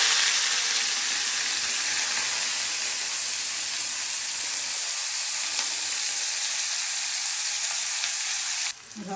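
Onions frying in hot oil for cauliflower bhorta, a loud, steady, close sizzle and hiss that carries on throughout and drops off abruptly at the very end.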